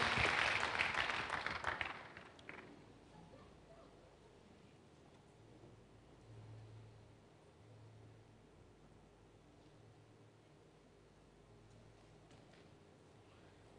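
A church congregation bursts into loud hand clapping at the start of a worship service, then it quickly fades away, leaving only a faint room hush.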